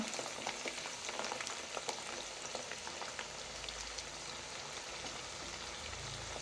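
Steady, dense sizzling of dried red chillies frying in fresh, strong mustard oil for chilli pickle, a continuous crackling hiss with scattered pops, close and moderately loud, no voices.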